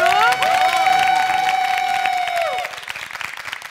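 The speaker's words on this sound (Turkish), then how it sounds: "Alkışlarla uğurluyorum" Studio audience on a Turkish family game show applauds, mixed with a few cheers and a sustained musical tone over the clapping, which thins out after a couple of seconds.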